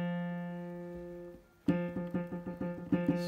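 A single piano note rings out and slowly decays, then a rapid run of several notes is played in quick succession.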